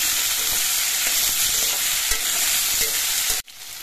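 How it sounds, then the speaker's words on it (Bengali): Potatoes and sweet pumpkin pieces fry in a pan with a steady, close, dense sizzle that runs unbroken for several seconds, then cuts off abruptly near the end. "এবার এই আলু আর মিষ্টি কুমড়োগুলো কিছুক্ষণ ভেজে নিতে হবে।"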